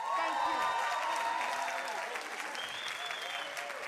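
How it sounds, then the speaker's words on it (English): Audience applause for a comedian at an Italian comedy show, a dense crowd clapping that stays loud and steady throughout, with some cheering mixed in. "let's give him a huge round of applause"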